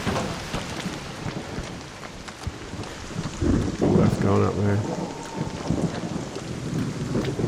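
A video game thunderstorm rumbles with steady rain and rolling thunder, loud and continuous, while a person talks over it.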